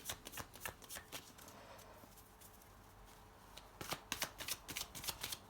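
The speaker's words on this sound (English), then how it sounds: "Oops, it's too many cards, I can't take them." Tarot cards are handled and shuffled close by, with quick bursts of crisp riffling and slapping, a quieter pause in the middle, then a rapid flurry of card clicks at a low level.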